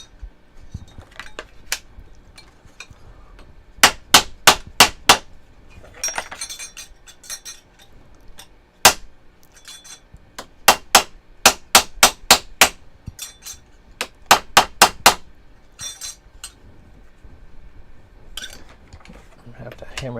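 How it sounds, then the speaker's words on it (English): Silverware being hammered flat for a bud vase, sharp metallic strikes ringing out in quick bursts of several blows, separated by quieter handling clinks and scraping, with a voice speaking now and then. "I'm gonna have to hammer that one pretty good."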